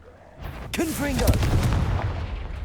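A Confringo spell from Hogwarts Legacy erupts as a short boom and crackling blast, followed by a sustained rumbling roar, with a brief shouted voice over the impact.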